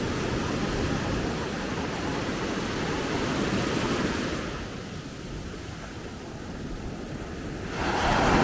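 Steady wash of gentle surf rolling onto a beach at Maspalomas, Gran Canaria, a soft broadband hiss that eases for a few seconds before a wave swells in again near the end.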